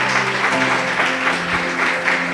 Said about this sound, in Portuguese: Louve a Deus com suas palmas bem fortes.